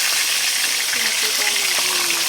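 Steady loud sizzling and crackling of fish frying in hot oil, continuous throughout with a faint voice underneath.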